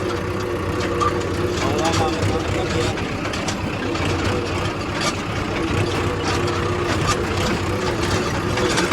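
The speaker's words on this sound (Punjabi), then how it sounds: "ਉਸੇ ਦੇ ਟਰੈਕਟਰ ਨਾਲ ਹੁਣ ਆਪਾਂ ਲੈ ਕੇ ਆਏ ਆ ਕਿ ਟਰਾਲਾ ਲੈ ਕੇ ਚੱਲਦਾ" A tractor pulling a trailer rumbles with a steady low engine drone throughout, loud and close, with people talking over it.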